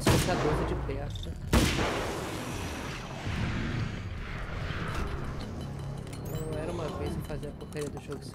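Heavy gunfire in the video game Alan Wake's American Nightmare, a loud close blast like a shotgun followed by rumbling shots and effects, with someone talking over the action.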